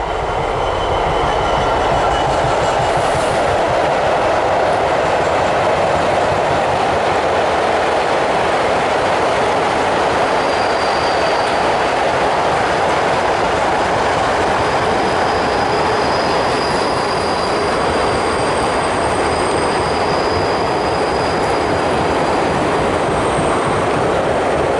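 A train rolls past an allotment in a long continuous rumble with rattling wagons and thin high wheel squeals, steady and fairly close for the whole stretch with no talking.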